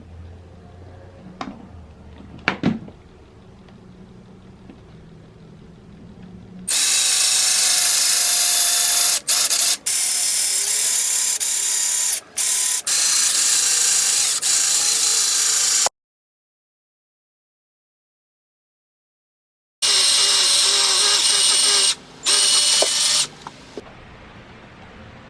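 A power drill bores into a Nike Air Force 1 sneaker in two long, loud, steady bursts of high whirring, cut by brief pauses, with a quiet stretch between them.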